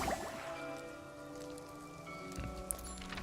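Rain falling in the video game Infinity Nikki, a soft continuous patter under a sustained musical tone and a faint chime near the end, fairly quiet, with no talking.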